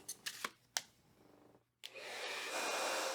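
A Twin Turbo 3200 ceramic ionic hair dryer weighing 858 grams gives a few handling clicks and a brief silence, then switches on to a steady, loud rushing whoosh of air that holds to the end.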